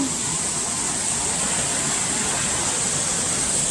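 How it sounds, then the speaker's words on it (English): A waterfall on a hiking trail near Charlotte roars as a constant broadband rush of falling water, even and unbroken throughout, heard from nearby. "okay, here's the waterfall."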